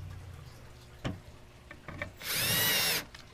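A power drill drives a screw into scrap wood while building a cart for a fish room. After a few faint knocks, one loud whirring burst of under a second comes up close, and the screw fails to grip.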